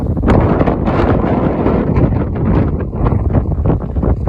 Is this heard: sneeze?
no